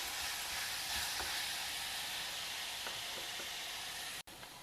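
Onions frying in a pan, a soft steady hiss of sizzling oil with a few faint stirring clicks, cut off briefly near the end.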